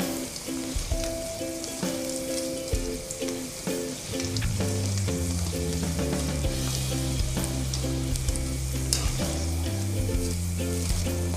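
Onions frying in hot oil until golden and crispy, with a steady, dense sizzle running throughout, alongside a continuous tonal background that could be music.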